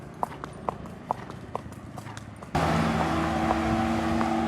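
A mare's hooves clip-clop in a steady, repeated rhythm as she is ridden along a village road toward an ashram, then a louder broadband rumble with steady tones takes over partway through, largely covering the hoofbeats.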